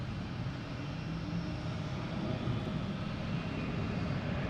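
A Delta Boeing 737-900 jet airliner at Boston Logan, a distant, steady engine rumble that swells slightly midway and continues alone without talk.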